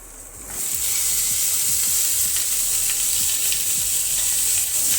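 Apple gourd pieces drop into hot oil and roasted masala in a pan, setting off a loud, steady sizzle of frying that swells after a brief quieter start and holds without talk.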